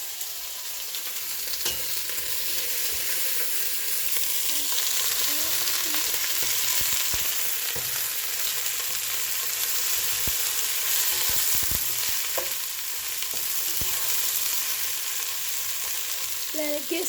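Chicken pieces frying and sizzling in a pot on the stove, a dense continuous hiss that stays loud and close throughout, with occasional scrapes and pops from stirring and no talk.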